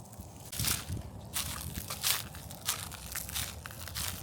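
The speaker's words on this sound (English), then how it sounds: "Hopefully the crunching of leaves isn't too obnoxious." Footsteps crunch through dry leaves on cemetery ground, giving a steady series of crackling, crumpling steps, close and fairly loud, with no voices.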